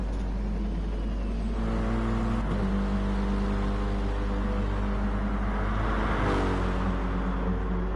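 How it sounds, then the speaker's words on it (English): A BMW M6 racing car's engine drones loudly and steadily on a race-game circuit at Catalunya. Its pitch shifts through gear changes and rises again as it accelerates, with a constant low rumble underneath. "Fantastic engine notes, it has to be said, from the BMWs."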